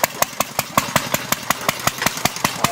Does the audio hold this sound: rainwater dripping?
no